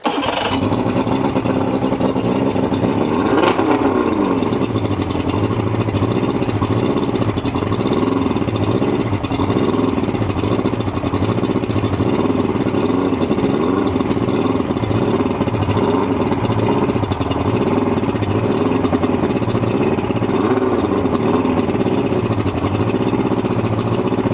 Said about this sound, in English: I'll let it burn off everything. Getting good gas, getting good spark.